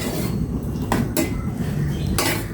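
A metal utensil stirs sautéing food in a home kitchen pan, giving a few sharp clinks and scrapes over a steady low sizzle and background hum, with no talking.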